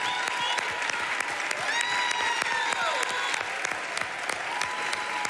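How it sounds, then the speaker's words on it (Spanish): An audience at a Got Talent Argentina beatbox audition applauds steadily and loudly, with cheers and whistles rising through the clapping for several seconds. "mirá el aplauso de la gente"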